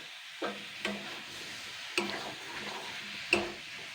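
Potatoes drop into a pan of soybean and egg curry, setting off a quiet, steady sizzle. A few soft knocks and clunks of the pieces and spoon sound over it.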